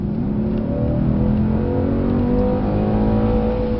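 Mercedes C63 S on a racetrack at full throttle, its engine a loud, steady roar with rising harmonic tones, sustained and close throughout with no talking.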